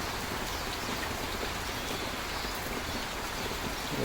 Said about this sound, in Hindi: अभी बारिश आ रहा है